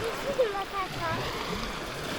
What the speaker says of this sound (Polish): zaraz tu fala do ciebie przypłynie